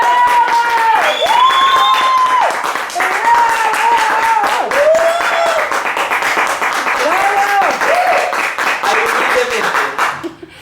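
Sustained audience applause at a Spanish-language talk event, loud and dense for about ten seconds, with voices speaking over the clapping before it fades out at the end.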